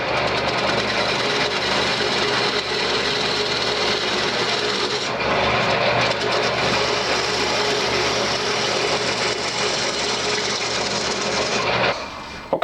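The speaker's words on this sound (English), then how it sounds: "I'm going to rough it in with my bowl gouge, and then I'll finalize and get in the corner with a skew." Wood lathe rough turning a maple bowl tenon with a bowl gouge, a loud, continuous, rasping cut over the steady hum of the spinning lathe for about twelve seconds before the cut stops abruptly.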